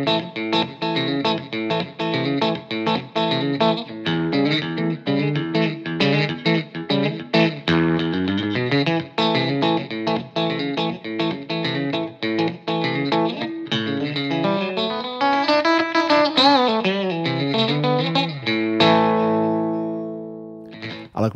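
Electric guitar played through a Peavey 6505 Plus 112 combo amp on a relatively clean setting, heard alone as a steady run of picked notes and chords with a slow pitch sweep near the end, close and loud with effects-like shimmer.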